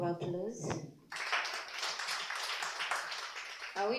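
At a university innovation club launch, a brief voice gives way to a burst of audience clapping that lasts a few seconds before talking resumes at the end.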